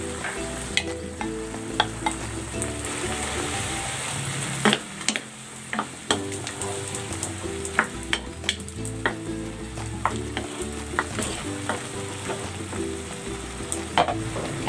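Scrambled eggs with tomatoes fry and get stirred in a pan, a steady sizzle running throughout with frequent sharp scrapes and clicks of a utensil against the pan, and no talk.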